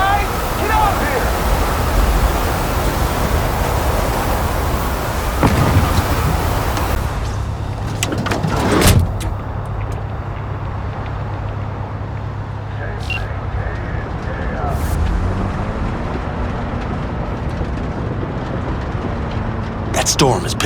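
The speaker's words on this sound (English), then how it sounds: "That storm is picking up steam." A storm of wind and rain in Cyberpunk 2077 roars as a dense, steady wash of noise, with occasional thuds and a shifting low drone, while characters talk over it.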